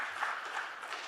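Steady applause from an audience after a debate, a dense wash of many hands clapping at once throughout, fairly distant and even in loudness.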